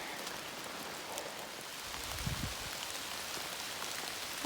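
Rain falls steadily on a hiking trail at Lake Lurleen State Park in October, a dense, even patter close around with no voices.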